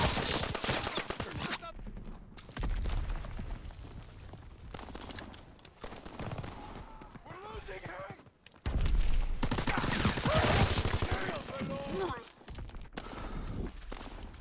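Gunfire rattles in the WWII shooter Call of Duty WWII: dense, continuous bursts of shots with in-game voice callouts and battlefield noise layered over them, loud throughout with brief dips.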